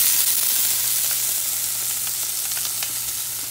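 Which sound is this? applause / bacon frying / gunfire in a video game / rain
bacon frying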